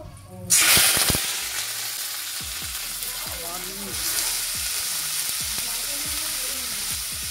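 Nigella seeds drop into hot mustard oil in a pan and burst into a sudden loud hiss, which settles into a continuous close sizzle with faint crackles and small pops.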